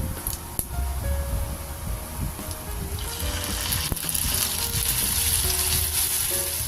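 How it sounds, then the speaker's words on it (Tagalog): Pure Foods corned beef sautéing in a pan with garlic, pepper and mushroom, a steady close sizzle and frying hiss running throughout with a few faint clinks and scrapes, no talk. "Igigisa ko lang po ito ng maigi hanggang sa medyo matuyo po siya."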